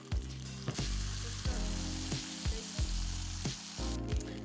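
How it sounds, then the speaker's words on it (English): Food sizzles in hot oil in a skillet where rib patties and bacon are fried, a steady crackle broken by a regular series of low, thumping pulses. "and then in they go into our hot sizzling oil"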